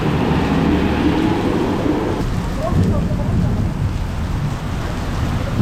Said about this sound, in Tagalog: Yung lakas ng ulan, no?